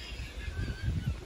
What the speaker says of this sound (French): Il y a des oies là derrière.